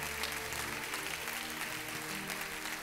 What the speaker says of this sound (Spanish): Denle una ofrenda de palmas a nuestro Señor Jesucristo.